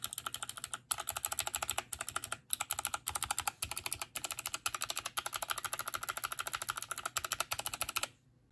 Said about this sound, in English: this is what a box pink sounds like